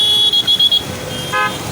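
Lagos road traffic on a rainy, flooded day, with cars idling close by and a high pulsing horn or alarm tone, then a brief short honk near the end.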